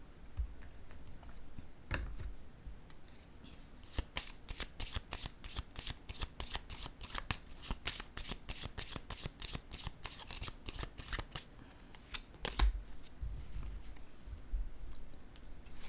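Tarot cards are shuffled in a rapid riffling burst of crisp, close snaps, with scattered softer card handling and slides before and after as a card is drawn.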